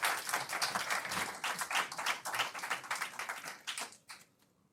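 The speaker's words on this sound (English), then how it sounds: "Give this gentleman a huge round of applause as he makes his way back to the seat" An audience at a hypnosis show breaks into dense, lively clapping for a volunteer returning to his seat. It stays full for about four seconds, then thins to a few scattered claps and fades out.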